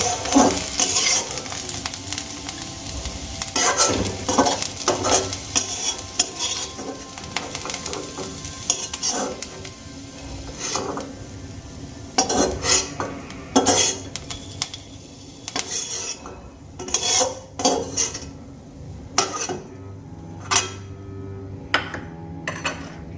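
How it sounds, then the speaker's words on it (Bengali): Fried light-brown onions are lifted out of a pan with a utensil, giving a continuous sizzle of hot oil broken by sharp scraping and clinking strikes against the metal, loud and close, with no talking. "এখানে পেঁয়াজ আমার হালকা ব্রাউন করে ভেজে নেওয়া হয়ে গেছে, এবার আমি পেঁয়াজগুলোকে তুলে নেব।"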